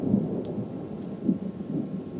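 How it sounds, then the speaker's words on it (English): Thunder rolling through a rainstorm in Seattle, a faint, distant low rumble that swells twice under steady rain, with no talk. "That was a very big thunder."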